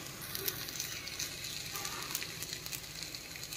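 Tomatoes fry in a pan for chutney with a steady close sizzle and fine crackling that runs unbroken throughout, with no voices.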